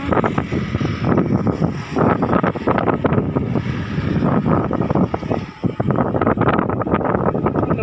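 Wind buffets a microphone outdoors at a hospital in Chanthaburi, Thailand, making loud, continuous rumbling gusts that roar and flutter for the whole stretch without any clear voices.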